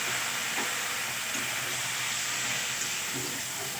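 Water poured into hot oil and spices in a pan for a fish curry gives a steady, loud hiss and sizzle that holds evenly throughout, with no voices.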